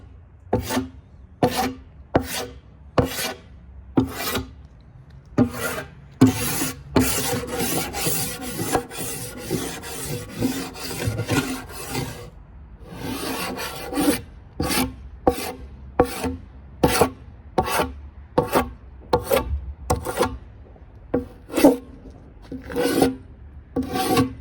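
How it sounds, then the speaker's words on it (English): An old Stanley No. 82 scraper drags across dirty wood from reclaimed piano parts, making a steady run of close, rhythmic rasping strokes with a dense busier stretch in the middle. "One good use for this old Stanley number 82 scraper is getting all this dirt off."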